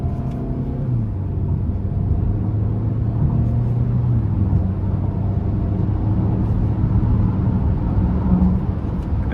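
Engine of a 2017 Volvo XC60 Dynamic T6 AWD heard from inside the cabin as a steady loud drone, its pitch stepping up and down with gear changes over several seconds, with no talking.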